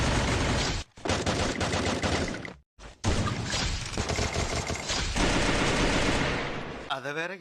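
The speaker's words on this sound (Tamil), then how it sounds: "ஃப்ரீ ஃபயரின் விண்டேஜ் காலகட்டத்துல இருந்த இந்த கன் சவுண்ட் எஃபெக்ட்லாம் கேட்கவே சூப்பரா இருக்கும்" Old-style gun sound effects from the early days of the Free Fire video game: loud bursts of rapid automatic fire broken by short silences, ending in a warbling tone, with no talking.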